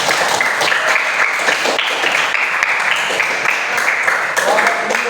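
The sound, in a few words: audience applause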